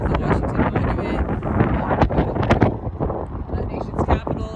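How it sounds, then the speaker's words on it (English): Cold gusts of wind buffet the microphone near the Washington Monument, a rough, rumbling roar that swells and dips continuously, with a voice partly audible underneath. "This side is way windier"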